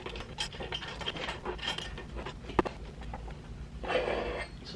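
A lock nut is tightened onto a pipe fitting for a steampunk robot pipe lamp, giving steady close metallic rasping and scraping, one sharp click midway and a louder grinding stretch at the end.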